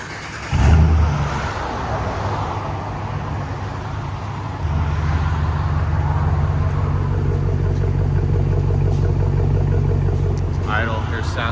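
A 2022 Jeep Wagoneer's 5.7L HEMI V8 with true dual exhaust and valves open, starting with a loud blip, then a steady deep rumble that rises in level partway through and holds close and strong to the end.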